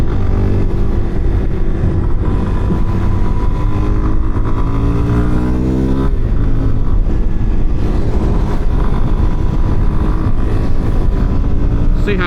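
A Suzuki DRZ4SM motorcycle cruises on the highway in 5th gear, its engine droning loud and steady with wind rush and a couple of shifts in pitch.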